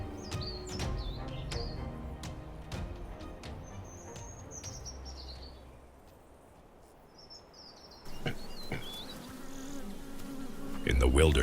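A swarm of bees defends a honey-filled hive on the African savanna, their dense buzzing close and continuous, with birds chirping faintly in the background.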